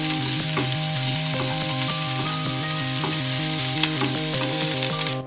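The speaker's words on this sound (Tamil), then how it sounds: "இப்போ நல்லா வதக்கிக்கலாம்." Onions frying in a pan with a pinch of asafoetida for sprouts sundal, giving a loud continuous sizzle with a faint background hum and occasional stirring scrapes, close and alone.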